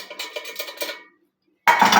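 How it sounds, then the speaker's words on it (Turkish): Metal clatter from a cooking pot with a loose, wobbly handle, a quick run of close rattling knocks, then a pause, then a louder burst of jangling. "tenceremin de kulpu sallanıyor bak"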